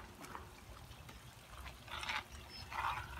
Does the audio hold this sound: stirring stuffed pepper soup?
yes